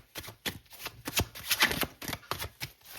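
Tarot cards being shuffled and drawn from a deck during a full moon reading, a quick series of soft riffling flicks and slides heard up close with no talking.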